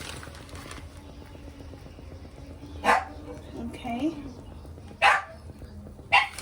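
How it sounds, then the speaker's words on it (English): A dog barks a few times in short, sharp bursts while a person talks nearby, with a quiet background in between. "sorry for the dog barking"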